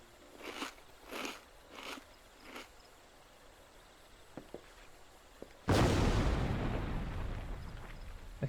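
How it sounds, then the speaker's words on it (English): A Final Fantasy XIV explosion bursts in loud and broadband partway through, then rumbles and decays for several seconds, after a few short soft thuds and quiet clicks. "Explosion."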